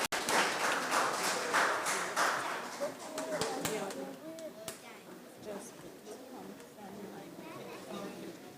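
An audience applauds students at a school opening ceremony for Special Education Week, with a burst of many hands clapping that fades after a few seconds. Voices talking then take over.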